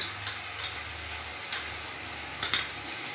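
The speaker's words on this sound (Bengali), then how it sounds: "এবার আমি এটাকে ভালো করে ভাজবো" Low, quiet sizzling of onion, ginger, garlic and green chili paste frying in a pan, broken by a few light scraping clicks as a spatula stirs.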